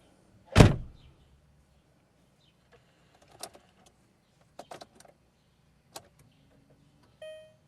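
A VW Beetle door slams shut once with a sharp, loud thud near the start, followed by quiet faint clicks and small rattles inside the car, then a brief soft whir at the end.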